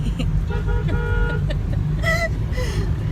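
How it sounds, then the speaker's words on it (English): Several car horns toot in short bursts, some repeated and some longer, over a steady rumble of Kolkata street traffic, with horns at varying distances and pitches. "Still honking."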